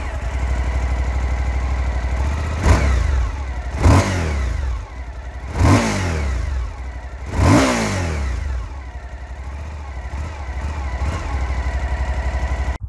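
A Suzuki V-Strom 1050 V-twin engine idles with a deep, steady throb and is blipped through four sharp revs at regular intervals, close and loud, with no talk.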